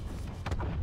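An enemy Evactor blowing up in the video game Starlink: Battle for Atlas, a short deep explosive boom with a burst of crackle in the middle of a brief rumbling moment.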